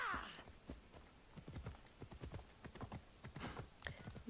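Horse hooves clip-clop at a steady trot in the video game Assassin's Creed Odyssey, fairly close, with a brief whinny at the start and a soft rustle of movement.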